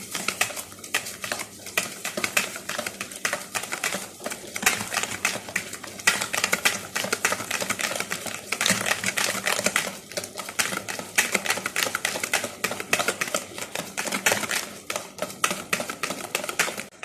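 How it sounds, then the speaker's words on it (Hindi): Hand whisk beating sugar and eggs in a bowl, producing rapid, irregular clicking and clattering against the bowl, fairly close and continuous, with no talk. "अच्छी तरह हैंड विच से इसको मिक्स करते हैं"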